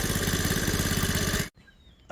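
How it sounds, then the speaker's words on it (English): A Honda CT70 Dax copy minibike fitted with a Lifan engine runs with a steady, buzzing, pulsing note, fairly loud and close, then drops away abruptly into near silence before the sound briefly returns. "the bike goes pretty well with the lifan engine in it"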